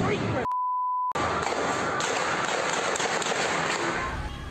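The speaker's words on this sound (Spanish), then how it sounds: "Disparos, detonaciones y gases." Street clashes bring a dense crackle of sharp bangs and detonations, loud and continuous, broken near the start by a steady censor-style beep tone.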